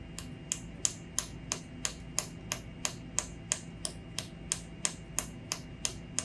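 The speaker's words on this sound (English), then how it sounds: "That snapping sound lets you know you're in focus" An AMADA Weld Tech laser welder pulses at focus, giving a regular series of sharp, crisp snaps about twice a second over a faint steady hum, close and without talk.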